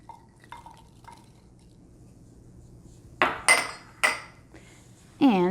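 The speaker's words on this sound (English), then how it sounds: "So I'm just gonna add my apple in now." Chopped apple being added to pineapple in a bowl: a few soft taps, then several sharp clinks and clatters of pieces and a utensil against the dish, close and clear with no talking.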